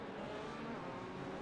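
Race car engine from a racing video game drones steadily at a constant pitch, fairly loud and continuous, with no speech over it.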